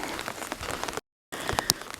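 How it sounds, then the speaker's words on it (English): Rain falling on a garden farm, a steady broadband patter of drops on surfaces that drops out briefly before resuming, with a few brighter splashes near the end. "when it starts to rain hard"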